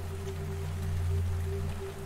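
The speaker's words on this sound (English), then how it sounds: "It's slippery! It's raining!" Rain falls in the video game nameless, a soft, even patter of drops over a low steady hum, faint and continuous with no voices.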